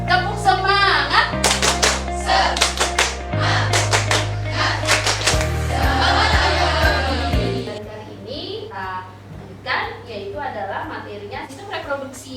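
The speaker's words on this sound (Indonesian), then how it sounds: "tepuk semangat" A classroom of students in a biology lesson claps a rhythmic spirit cheer together: bursts of quick, patterned hand claps over steady background music, with voices talking.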